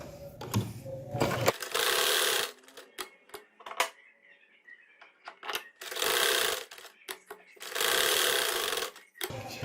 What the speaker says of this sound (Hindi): चलिए अब मैं आपको सिलाई लगाकर दिखाती हूँ।